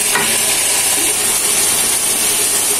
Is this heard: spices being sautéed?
yes